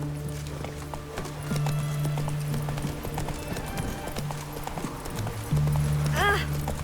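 Hooves of the horse Roach clip-clop steadily in The Witcher 3: Hearts of Stone, close and rhythmic, with a short whinny near the end and game ambience underneath.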